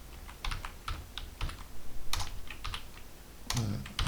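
Close keys clatter in quick, irregular bursts as a password is typed on a computer keyboard, with short pauses between strokes and no voices.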